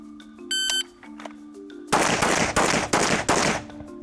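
An AK-type rifle with a Soviet magazine fires a rapid series of loud, sharp shots at targets on a shooting range. A few electronic beeps sound first.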